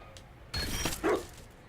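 One dog in Dragon Age: Inquisition gives a short bark or woof, then a brief higher yelp, both fairly faint and close, over a quiet background with no talking.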